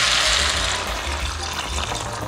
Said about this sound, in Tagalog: Pwede na tayo maglagay ng tubig.